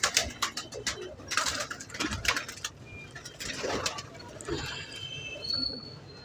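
Pigeons of the Indian Zakh and Lakha breeds coo softly in a bird loft, with low repeated coos, scattered chirps and light fluttering, fairly close and without talk.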